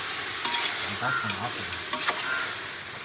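Two kilograms of chicken sizzle and fry in a pan while being stirred, with scraping strokes of the spoon against the pan over a constant sizzle.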